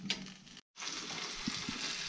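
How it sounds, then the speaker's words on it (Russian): A piece of meat sizzles steadily in a hot frying pan, a continuous close hiss broken by a brief cut, with a few light clinks. "пока кусочек обжаривается"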